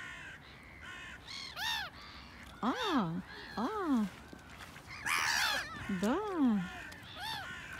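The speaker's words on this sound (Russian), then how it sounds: "Вороны с той стороны, со стороны деревьев." Several loud, harsh crow caws ring out in bursts, fairly close, with a few brief spoken words and other bird calls in between.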